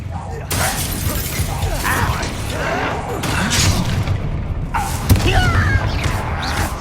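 Explosive fire spell blast in the video game Hogwarts Legacy, heard as repeated shattering booms and crashes over dense battle noise, with a voice talking in places.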